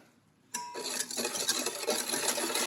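A spoon stirs warmed milk, yeast and sugar in a cup, producing a steady run of close, bright clinks and scrapes against the cup's sides after a quiet start, with no voices.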